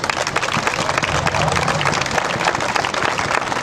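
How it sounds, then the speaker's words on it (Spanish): Steady, dense applause from an audience at a basketball career recognition ceremony, a continuous wash of clapping at moderate distance without a break. "pido un fuerte aplauso para ellos"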